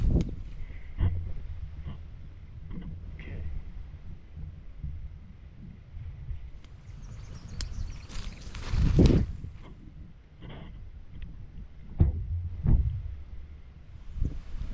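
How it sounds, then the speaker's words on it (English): Wind buffets the microphone in a rainforest, producing low rumbling gusts and thumps of varying strength, with a few sharper bumps close by. "There's a lot of wind here."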